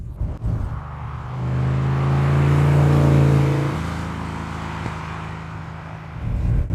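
De Tomaso Pantera accelerating hard on a road, the engine note rising and swelling to a loud, rough roar before easing back, heard from inside the car with a steady rumble beneath.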